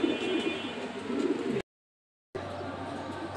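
A male racing homing pigeon coos softly and repeatedly at close range, broken by a brief silent gap before low cooing resumes.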